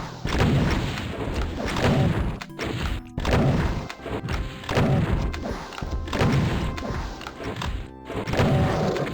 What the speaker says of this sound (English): Super shotgun it is.